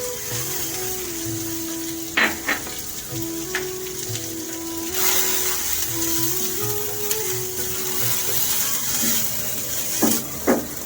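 Grated coconut fries in ghee in a pan, giving a soft, steady sizzle close by. A few light scrapes and clicks of stirring break through now and then, and no one speaks.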